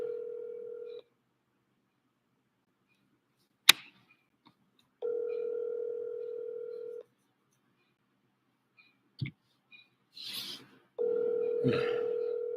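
A telephone call rings out in regular tone bursts separated by silences, with a few clicks and rustles between rings, fairly faint and with no voices.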